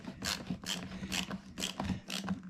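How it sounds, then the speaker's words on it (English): Screws on the enclosure cover of a Champion 92001i-UK petrol suitcase generator are tightened by hand with about five short ratcheting, clicking turns in an even rhythm, close and fairly quiet. "A few gentle turns, and that will tighten the enclosure cover back onto the side of the generator."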